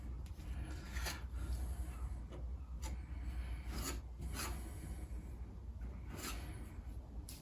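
Car body filler being smeared with a spreader over angle-ground metal on a Jeep Patriot during body repair, a continuous faint rasping scrape with rhythmic stroke pulses, close and quiet, no talk.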